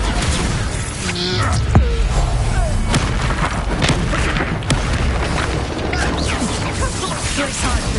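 Booming blasts from Confringo and Bombarda spells in Hogwarts Legacy, dense and continuous over busy combat noise with several sharper impacts.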